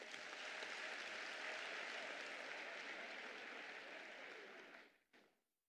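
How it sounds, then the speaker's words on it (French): Sustained applause from a large audience at a political party congress, dense and steady for nearly five seconds before fading out, with a short final burst of clapping. "Applaudissons-les."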